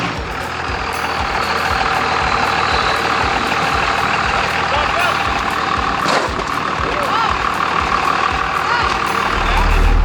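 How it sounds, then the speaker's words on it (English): A huge off-road truck's engine rumbles steadily and close with a low, throbbing pulse as it backs up, continuous for the whole stretch, with faint wind and movement noise. "I thought I was gonna have enough room to back up, but this is a huge truck"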